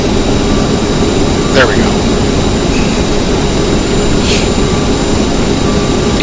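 Jet engines of an Aerosoft CRJ airliner in a flight simulator, a loud, steady roaring drone under throttle that fills the whole stretch while someone talks briefly over it.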